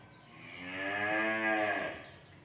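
A cow moos once in a long, rising and falling call that swells to full strength midway and then fades, heard alone and close with no talk.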